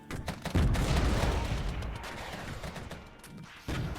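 Artillery fire in the wartime strategy game Regiments comes as a rapid barrage of heavy booming blasts that rumble together into a loud, continuous roar, with a fresh burst near the end.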